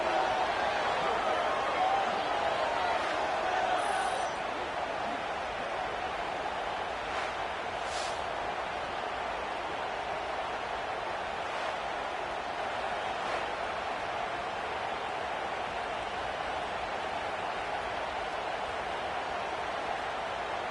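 A stadium crowd at a Canadian Football League game keeps up a steady, broad roar after a score, with a commentator talking over it throughout.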